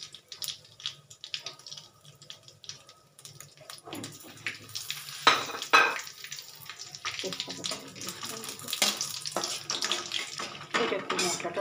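Dried red chillies, cinnamon and cardamom sizzling in pure mustard oil for paneer kofta, a hissing crackle that swells partway through and continues with brief clinks and a faint voice.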